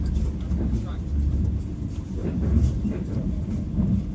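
A slow train running through rural China, with steady low rumble and rolling rail noise continuing throughout, close and fairly loud, with faint voices underneath.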